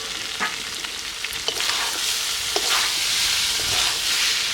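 Young jackfruit curry stirred in a pan after the lid comes off, in a village kitchen, a loud hissing fry with sharp scraping strokes early on, then a steady sizzle, near and with no voices.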